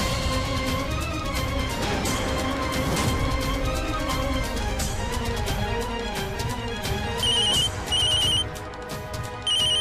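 A telephone rings in a domestic drama scene, its electronic ringtone emerging in short repeated bursts near the end over a dense, loud bed of dramatic background music.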